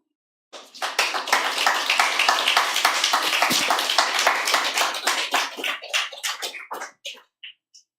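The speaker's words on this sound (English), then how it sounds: "Another round of applause for Terry, please" A small audience claps for author Terry Wolverton after a fiction reading, brisk and close at first, then thinning into a few scattered claps before stopping.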